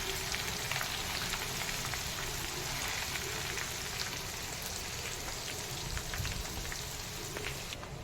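Ginger fries in hot oil for a fish pickle, giving a dense, steady sizzle with fine crackling pops that carries on evenly throughout.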